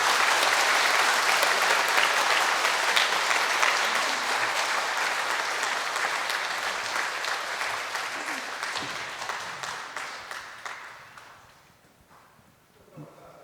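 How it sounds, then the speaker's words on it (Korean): A church congregation applauds warmly for a monsignor at his golden jubilee Mass, loud continuous clapping that gradually thins and fades away near the end. "교우 여러분의 힘찬 박수를 맞이하여 주시기 바랍니다."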